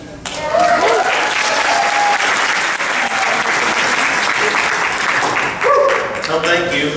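An audience at a workplace safety training session claps for a deputy taking the floor, sustained dense applause lasting several seconds, fairly loud and close, with a few voices mixed in near the end.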